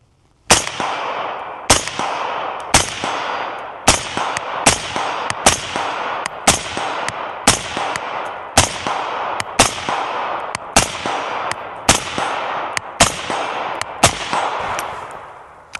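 An AR-15 rifle fires at steel targets at an outdoor range. Loud single shots ring out at a steady pace, about one or two seconds apart, each crack followed by a short metallic ring and no voices.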